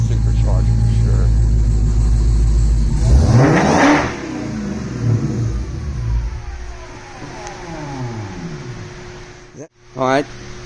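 A supercharged Dodge Demon engine idles loudly, then a rev spins up with a whining supercharger and settles back down. A brief sharp blip comes near the end, with voices talking over the fading engine.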